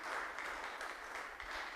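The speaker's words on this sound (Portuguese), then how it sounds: "Brota espontâneo, então, as palmas" Spontaneous applause from a gathering after the Pope signs an encyclical at the tomb of Saint Francis in Assisi, a steady wash of many hands clapping at moderate distance, even and sustained throughout.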